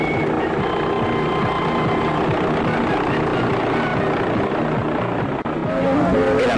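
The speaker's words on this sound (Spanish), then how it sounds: "Los helicópteros también empiezan a llegar, trayendo consigo a más visitantes." Helicopters arriving at a lavish estate with visitors produce a continuous loud rotor drone and engine roar that stays steady throughout, with no voices over it.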